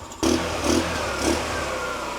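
An engine starts up and idles close by, its steady running lifted by a few brief revs that pulse at a slow, even pace, with no talking.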